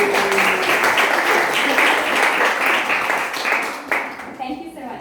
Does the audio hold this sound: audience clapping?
yes